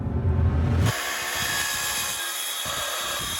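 Handheld power tool whirring while a wooden shelf is built inside a camper van, a steady buzzing drone that starts abruptly after a moment of low rumble and runs on with slight wavering.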